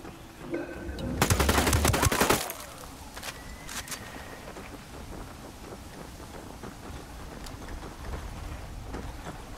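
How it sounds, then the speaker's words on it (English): Submachine gun fire crackles in a video game, a loud rapid burst of about a second followed by scattered quieter shots and faint background ambience. "Submachine guns."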